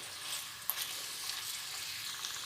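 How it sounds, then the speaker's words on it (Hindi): Onions frying in oil or ghee in a pan for an Indian chicken recipe, giving a steady close hiss and crackle of sizzling with one brief louder pop, no voices. "प्याज़ों को 3 से 4 मिनट अच्छी तरह भूनना है"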